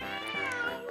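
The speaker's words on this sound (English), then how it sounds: "Oh, there's my cat." A pet cat named Hobbs meows in a short, close, clear call with a rising and falling pitch, heard alone in a quiet indoor space on a staircase.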